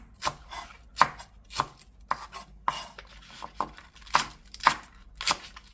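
A knife chops stir-fried squid with green onion on a cutting board in about ten crisp, evenly spaced strokes, close and distinct, with quiet pauses between cuts.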